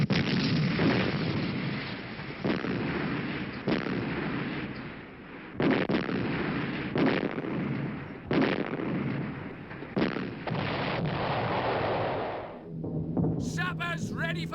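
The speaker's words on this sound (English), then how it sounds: "They're firing at us now." Artillery fire rumbles continuously and loudly, with repeated heavy booming blasts spaced a second or two apart over a dense roar, ending in a short burst of other sounds.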